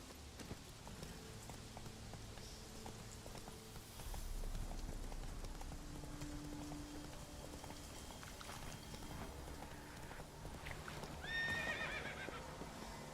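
A horse in The Witcher 3 video game trots with faint, rhythmic clip-clop hoofbeats under a quiet background, then gives a brief neigh near the end.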